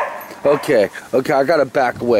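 A dog barks and yips repeatedly in short bursts close by, its voice mixing with a man's speech.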